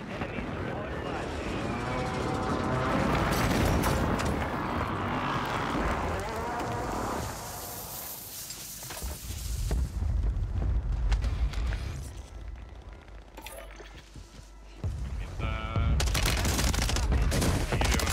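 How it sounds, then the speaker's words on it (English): An enemy precision airstrike in Call of Duty: Warzone on Rebirth Island lands as a long rumbling barrage of explosions and gunfire, loud and dense, rising and falling in waves with a voice talking over it. "Enemy precision airstrike"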